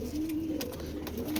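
A Giribaz pigeon cooing held in the hand, a low, steady throaty coo sustained across a short moment, close by, with faint clicks and rustles over it.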